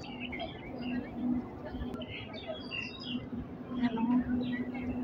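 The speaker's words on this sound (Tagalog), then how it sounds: "Pakinggan ng ibon." Small birds chirp and tweet intermittently in Kowloon Walled City Park in Hong Kong, light calls scattered over a steady hum and low rumble of the surroundings, with faint murmuring in the background.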